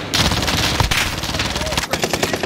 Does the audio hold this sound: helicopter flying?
no